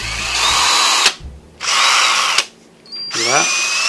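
Cordless drill upgraded to a lithium battery, whining loudly in three separate runs with near-silent gaps between them; the last run ramps up in pitch as its variable speed control is eased in.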